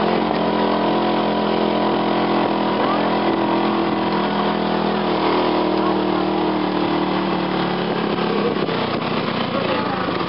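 A motor engine runs steadily and loudly up close during a 2009 trip to Catanduanes in the Philippines, a continuous droning hum with no breaks.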